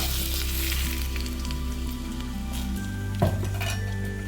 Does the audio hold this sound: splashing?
no